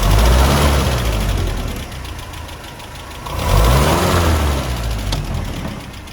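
A Land Rover Series 3 engine runs after a carburetor overhaul, a loud close rumble that dips and swells as it is blipped, with a rough knocking edge and no voices.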